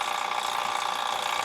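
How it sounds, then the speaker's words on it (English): A vacuum pump runs steadily while pulling vacuum on the AC system of a 2012 International Transtar truck with a MaxxForce engine, hooked to the gauge set's largest line. The drone is close and continuous, with a fast, even mechanical chatter. "I'm pulling vacuum right now, and the way I have it set up, I got my vacuum pump going to the biggest line on the gauges."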